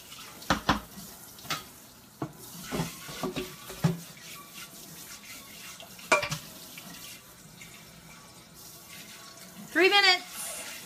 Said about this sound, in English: I'm washing out the pan so I don't have to do it later